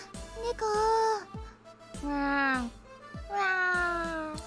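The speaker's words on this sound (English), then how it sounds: "A cat!" A cat caged inside a store meows three times in a row: drawn-out, clear calls with short pauses between them, close by and fairly loud.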